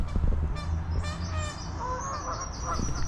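Geese honking loudly and repeatedly by a cricket ground in Chesterfield, several birds calling over one another with harsh nasal blasts against a steady outdoor background.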